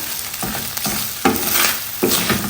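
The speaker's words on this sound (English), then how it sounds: "You stir it in with your coconut and your curry powder" A pan of coconut and curry powder sizzles steadily while a utensil stirs it, with several distinct scraping strokes rising above the frying hiss at close range and no voices.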